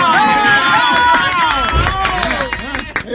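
A studio audience applauds and cheers at a comedy news show, a loud dense wash of clapping and crowd noise that thins out toward the end.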